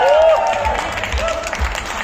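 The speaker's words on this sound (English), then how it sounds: "Let's have a bigger round of applause for Mr." Audience applause for Vicky Kaushal at a G-Shock watch media event, brief clapping mixed with voices and a sung or spoken tone over it, fairly close and moderately loud.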